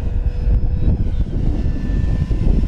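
An E-flite Draco 2.0 RC airplane flies at full throttle in windy conditions, its propeller motor giving a loud, steady, close drone with slight pitch shifts throughout.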